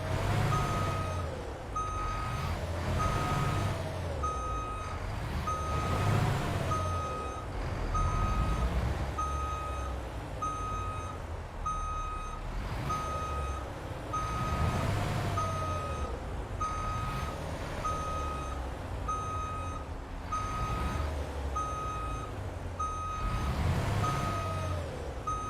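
A truck in American Truck Simulator backs in for the night, its reversing alarm beeping in a steady, evenly spaced rhythm over a low idling engine with occasional air-brake hiss.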